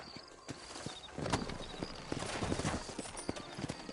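Horse hooves clip-clop steadily at a walking pace in a Wild West video game, moderately loud and rhythmic with some scuffing, no speech.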